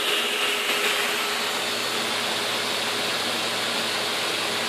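A hard drive spindle motor driven by a BLDC controller spins at about 15,000 RPM, giving off a steady, dense, high-pitched whir with a faint tonal hum underneath, constant throughout with no talking.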